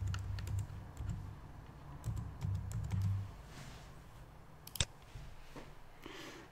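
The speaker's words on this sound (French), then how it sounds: "je vais taper Angoulême" Typing on a computer keyboard while entering a town name into a mapping app, with quick clusters of soft key taps, pauses between, and one sharper click near the end.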